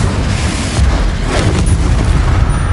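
Confringo fire spell bursting in Hogwarts Legacy, a loud, booming explosive rumble sustained through chaotic combat noise with a swell partway in.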